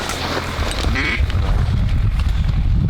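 Ducks quack during a Mississippi Delta duck hunt, with a few close, raspy calls over a steady rumble of wind and movement, loud and near the listener.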